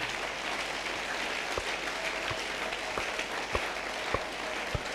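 Congregation at a Sunday church service clapping together, a steady wash of applause of moderate loudness with a few sharper individual claps standing out, continuing throughout.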